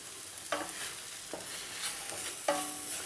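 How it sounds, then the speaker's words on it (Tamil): Manathakkali greens sautéed in oil in a pan, a low, soft sizzle with a few louder stirring scrapes, close and fairly quiet. "கொஞ்சம் நேரம் இந்த கீரையை நல்லா அந்த எண்ணெயிலேயே நல்லா வதக்கி விடுங்க."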